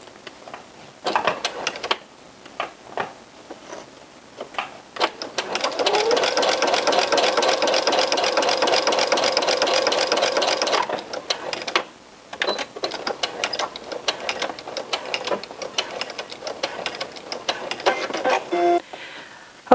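A sewing machine runs a steady stitching burst along a T-shirt seam for several seconds, surrounded by scattered clicks and handling noises from fabric and machine before and after.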